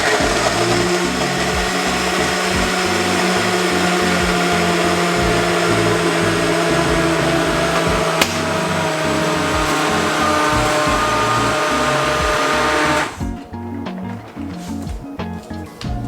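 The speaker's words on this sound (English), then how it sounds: "Put the cap on and ready to blend." A small cheap blender blending a smoothie runs loud and steady for several seconds, its motor droning continuously before cutting off, leaving a quieter rattling tail.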